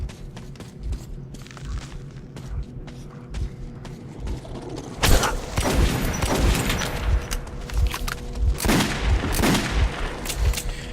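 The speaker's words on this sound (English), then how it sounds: "Pneumatic weapon." A pneumatic weapon firing in the post-apocalyptic shooter Metro 2033 Redux, with mechanical clicks and thumps early on, then loud, repeated blasts with strong, noisy bursts over a rumbling tunnel background.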